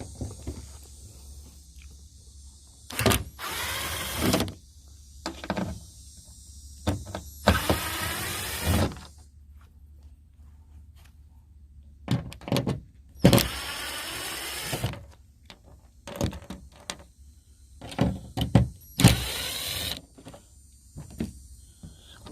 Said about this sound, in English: I'm going to use my impact wrench.